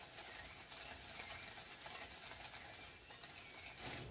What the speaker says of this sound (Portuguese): Nós vamos mexer até ficar um creme esbranquiçado.